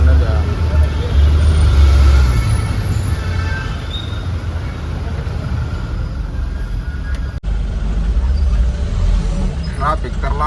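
Steady afternoon road traffic on a Pune local delivery run, heard from inside a truck cab: a continuous rumble of engines and passing vehicles, loud and unbroken, with a brief dip near the end.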